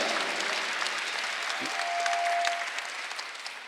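A Korean church congregation at Sunday worship applauds steadily throughout, a broad wash of many hands clapping at moderate distance with a faint sustained tone passing briefly through the middle.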